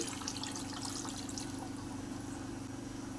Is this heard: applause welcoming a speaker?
no